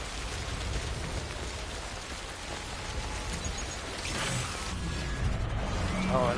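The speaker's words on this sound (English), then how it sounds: "it just goes from snow to hard rain suddenly" Hard rain in a PS4 video game, a steady hiss of heavy downpour running throughout and swelling slightly louder toward the end, with no talking.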